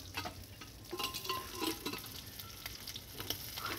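Hilsa fish heads fry in a pan with a steady close sizzle, broken by scraping stirs and small crackling pops throughout; no voices.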